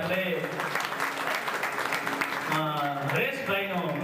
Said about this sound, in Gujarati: તો તાળીના ગડગડાટથી આપણે